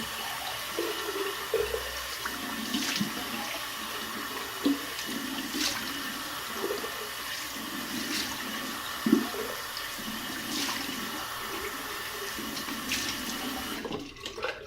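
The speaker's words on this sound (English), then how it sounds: "Go ahead and cold water rinse." Steady cold water pours from a tap in a continuous broadband hiss, with occasional splashes and sloshing as something is rinsed underneath, ending abruptly.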